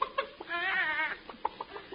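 A chicken clucks as a sound effect in a 1945 radio comedy scene set in a beauty shop, a burst of nasal clucking with a drawn-out cackle in the middle. It sounds close and is somewhat muffled by the old recording.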